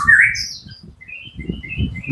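A white-rumped shama (murai batu) sings bright chirps and whistled phrases, louder at the start and then softer, over a low background rumble.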